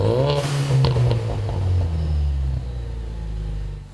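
A Ford Mustang EcoBoost fitted with an MBRP Street cat-back exhaust, a deep low rumble with a brief blip near the start that settles into a steady idle, close and loud with no talking.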